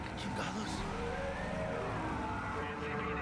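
A Night City police siren from the video game Cyberpunk 2077 wails loudly over traffic noise, a continuous rising and falling tone that fills the scene throughout.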